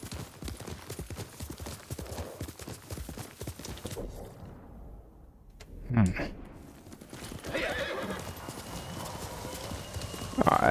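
Rapid hoofbeats of a galloping horse pound steadily in the video game Ghost of Tsushima, then a loud whinny rings out, followed by more hooves and someone talking over the action.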